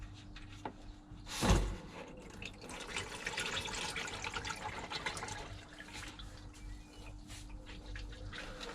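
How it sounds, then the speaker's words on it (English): Engine oil drains from the sump of a Renault Clio 4 0.9 TCE 90 hp after the drain plug comes out: a short splashing burst, then a steady, moderately loud pouring flow. "So now we will drain all the oil out"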